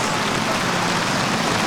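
Steady rain falls on an outdoor mini putt course, a dense, even hiss of drops pattering on the turf carpet throughout, with no voices heard.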